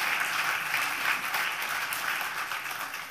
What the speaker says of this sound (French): qu'on peut applaudir bien fort encore.